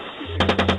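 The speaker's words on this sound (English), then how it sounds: "Keep shooting." Short rapid burst of gunfire, about four sharp shots in quick succession after a brief quiet lead-in, close and loud.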